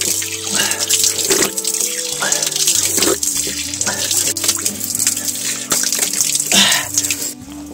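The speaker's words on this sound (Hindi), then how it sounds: "ये देखिए पानी," Water flows steadily from a spring in a mountain village in Uttarakhand, a continuous splashing gush with drips, loud and close, overlaid by a steady tonal hum through the whole stretch.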